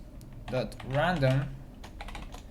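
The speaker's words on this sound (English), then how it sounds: "I'm going to use the console. So I'm going to type math.random." Light clicking of keys on a computer keyboard while code is entered into a programming console, a few quick taps around a short stretch of someone speaking nearby.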